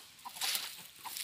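Faint, quick clucks from a chicken, a few soft calls in a short moment against a quiet outdoor background.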